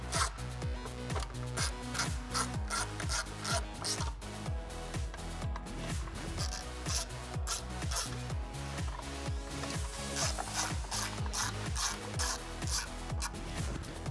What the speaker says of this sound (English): let's go ahead and remove the 4 screws holding our factory third brake light in.